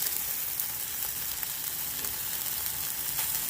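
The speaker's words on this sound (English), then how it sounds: "I don't use oil to heat up my ham. I just put it in a non-stick pot." Chicken ham heating in a non-stick pot with no oil sizzles in a steady, dense crackle that stays level the whole time, close up and alone with no voices.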